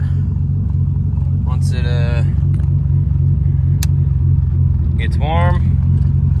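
A car engine idles before fully warming up, a loud steady low rumble throughout, with a person talking briefly over it.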